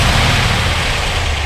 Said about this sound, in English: Go ahead and rev it up a little bit.